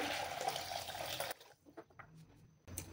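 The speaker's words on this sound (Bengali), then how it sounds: "বাটির মধ্যে আবার একটু গরম জল নিয়ে নিচ্ছি।" Hot water pours into a bowl as a soft, continuous trickle that stops partway through, leaving faint clinks and small splashes in a quiet kitchen.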